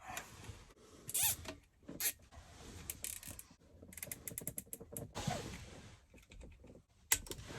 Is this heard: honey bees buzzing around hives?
no